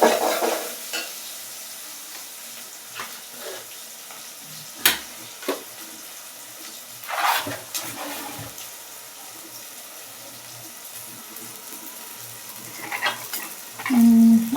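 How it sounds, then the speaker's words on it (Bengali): Onions frying in a pan, a steady soft sizzle with occasional stirring scrapes and clinks, close and fairly quiet, no talking. "ওই যে পেঁয়াজ ভাজতেছি।"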